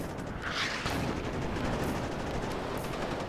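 Artillery barrages in the WARNO wargame form a dense, continuous rumble of booms and distant gunfire, steady and loud throughout with no talking.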